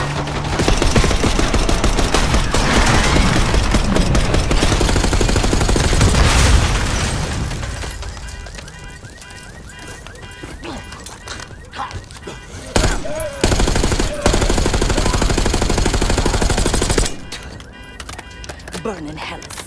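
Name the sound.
gunfire in a video game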